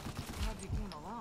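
Rapid bursts of gunfire in a first-person video game, several loud sharp cracks packed into a second, with a voice briefly audible underneath.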